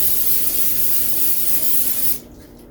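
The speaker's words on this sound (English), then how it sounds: "I'm using some non-stick spray because bananas have a lot of sugar in them and they apparently will stick." Non-stick cooking spray is sprayed in one steady, close hiss for about two seconds before it stops abruptly, onto trays for dehydrating banana slices, with no talking.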